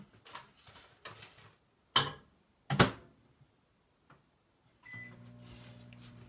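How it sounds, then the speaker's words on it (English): A microwave oven warming a cup of honey and maple syrup. A few sharp clunks and a door knock come first, then the oven's steady low hum starts and runs alone. "I'm going to put that in the microwave to warm up."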